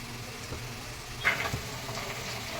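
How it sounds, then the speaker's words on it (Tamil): Ginger garlic paste sizzling in a hot pan, a soft steady frying hiss close by with a brief scrape or stir midway, quiet and without talk. "கொஞ்சமா இஞ்சி பூண்டு பேஸ்ட் போடுறோம்"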